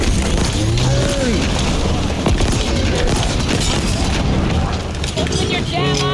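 A grenade blast from Halo Infinite's campaign on Zeta Halo booms loudly amid dense gunfire and combat noise, with voices talking over the continuous roar of battle.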